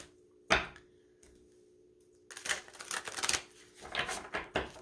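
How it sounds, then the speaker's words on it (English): Crisp bursts of tarot card shuffling, a single flick early on, then a longer run of riffling and shuffling after a quiet pause, close by. "just give it some more shuffling"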